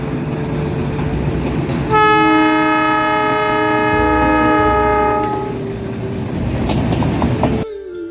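A metre gauge train on the Bahraich to Nepalganj Road line sounds a long, loud horn over the steady rumble and clatter of running wheels, the horn held for several seconds before the rolling noise continues alone.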